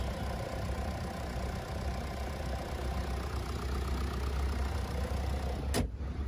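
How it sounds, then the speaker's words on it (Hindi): A Mercedes-Benz E220d E-Class from 2022, its all-aluminium four-cylinder OM 654 diesel running, gives a steady, even idle hum that holds at a constant level, ending with a brief sharp click near the end. "तो ये था Mercedes Benz OM 654 diesel engine."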